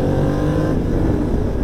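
A Yamaha Ténéré 700 twin-cylinder motorcycle accelerates to overtake, giving a loud, close, steady engine drone mixed with wind rush over a brief burst.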